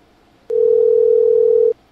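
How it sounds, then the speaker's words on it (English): A steady electronic telephone beep tone, like a voicemail or time-limit signal, sounds loud and alone for just over a second with clean onset and cutoff. "That was like a beep."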